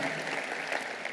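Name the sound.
church congregation applause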